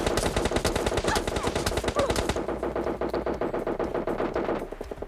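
Automatic gunfire from the video game PUBG Lite, rapid loud bursts of shots rattling continuously and close, easing slightly toward the end.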